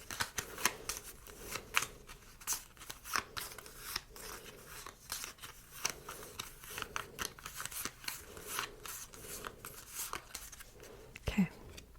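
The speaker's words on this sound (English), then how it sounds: "Once we have each of those shuffled, we just stack them on top of each other." Doomlings game cards shuffled by hand in a quiet indoor setting, giving repeated soft riffling and snapping bursts close to the microphone, with a brief louder flick near the end.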